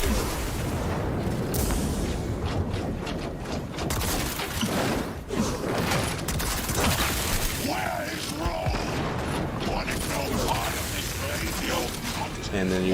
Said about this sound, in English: he shoots these missiles that go all up in the air and try to dive bomb you, and just like nukes a whole section